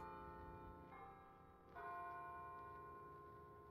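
Church bells ring out in the Sims 4 game world, with sustained, resonant tones and a second strike partway through, fairly faint and steady with no talking.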